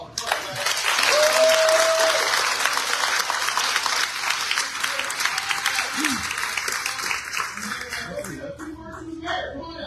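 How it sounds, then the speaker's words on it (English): Crowd applauding a political candidate at a campaign rally with a touring guest speaker, steady loud clapping with scattered whoops and cheers that stays full before easing slightly toward the end. "And let's give a big round of applause for Kerwin."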